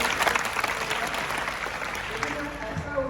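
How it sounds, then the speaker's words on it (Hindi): Applause from a large crowd of students in a college lecture hall, a dense, steady patter of many hands clapping at once, loud and continuous throughout with no pauses. "इस उत्तर के लिए ताली बजाओ।"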